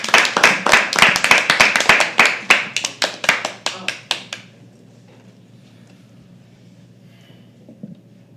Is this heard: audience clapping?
yes